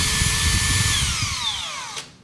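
A cordless drill runs steadily on its variable-speed trigger, a loud close whine with a falling pitch as the trigger eases off, then it spins down and stops near the end.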